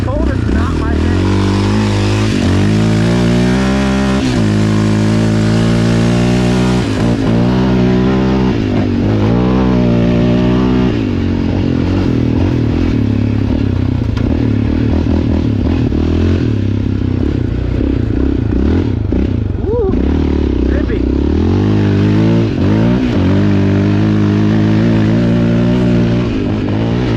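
A 2020 Yamaha Raptor 700R ATV engine revving and droning while riding through snow, loud and continuous with rising and falling throttle, a rider's voice occasionally over it.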